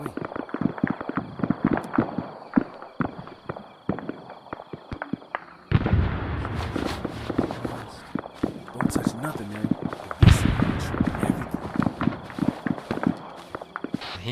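Gunfire crackles through a night battle in the game, sharp irregular reports near and far with a louder burst partway through, under ongoing talk.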